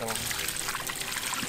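Water pouring strongly from a deep well, a steady broadband gush filling the whole clip, with people talking nearby.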